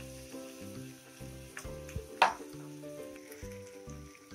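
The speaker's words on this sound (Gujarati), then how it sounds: "બટરમાં આપણે આ રીતે એને શેકવા મૂકીશું." Mixed vegetable patties sizzle softly in butter on a tawa, with quiet crackles and a few sharper pops beneath steady background music.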